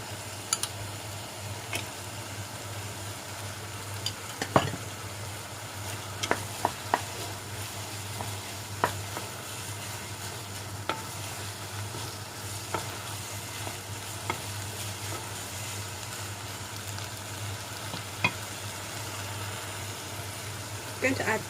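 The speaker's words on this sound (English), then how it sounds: "I'm going to add a few tablespoons of cooking oil." Sunflower cooking oil heats in a pan with a faint, steady sizzle. Occasional ticks and small pops sound over a low background hum.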